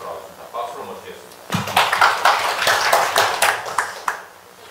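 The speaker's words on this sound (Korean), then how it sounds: "박수로 모시겠습니다" An audience at a labor union debate forum claps to welcome a union leader to speak, with sudden, fairly close applause starting after a brief spoken introduction and fading out near the end.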